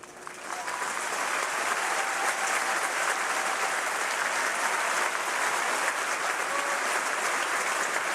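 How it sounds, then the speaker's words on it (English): A large graduation audience at a high school ceremony applauds teachers and staff, sustained dense clapping that swells in the first second and then holds steady and loud. "Please join me in applauding the teachers, counselors, school support staff in attendance."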